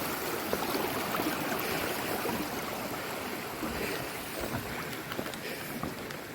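Water of Moore Creek rushes steadily through a trail crossing on the Appalachian Trail, a loud, continuous broadband wash with light wind buffeting close to the microphone and no talk.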